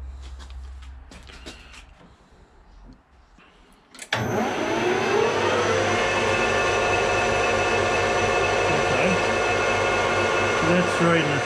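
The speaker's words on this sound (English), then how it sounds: "What RPM's the lathe doing?" A lathe spinning at about 1,000 RPM switches on partway through. It settles into a loud, steady mechanical whir with a constant tonal hum, and quieter shop noise can be heard before it starts.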